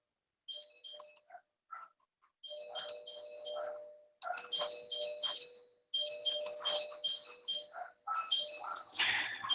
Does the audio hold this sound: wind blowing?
no